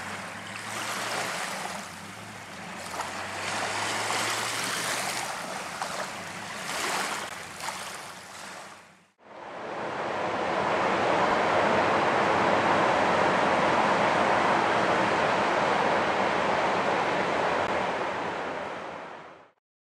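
Waves on Lake Erie washing against the shore, a broad continuous hiss of surf with wind buffeting the microphone, then a sudden cut to a denser, steady roar of breaking water that runs on without pause before ending abruptly.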